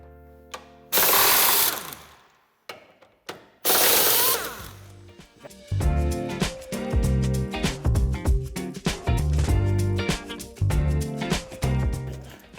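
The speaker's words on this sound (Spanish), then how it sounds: "Antes de montar el enganche, tendremos que quitar los dos tornillos de este lado" Power tool whirring as it removes screws from a 2023 Jeep Avenger before fitting a tow hitch, with two loud bursts followed by a longer stretch of stuttering, pulsing mechanical noise up close.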